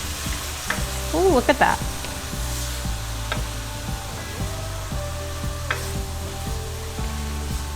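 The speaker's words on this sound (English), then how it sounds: "So we'll add the wine. Let that sizzle." Wine poured into a hot pan of spices and peppers for Portuguese stuffed peppers sizzles and crackles steadily near the mic, with a brief burst of louder spitting early on and a short spoken exclamation over it.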